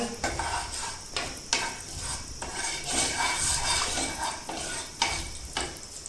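Desi ghee melting in a preheated frying pan, a steady close sizzle with repeated stirring scrapes and clinks of a spoon against the pan, no talking.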